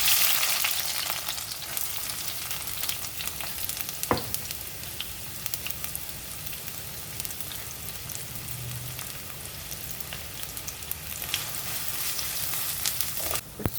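Fenugreek seeds, sliced ginger, onion and green chilli sizzle steadily in hot oil for a Kerala-style fish curry, a close, even crackling hiss with a few sharp pops and stirring scrapes.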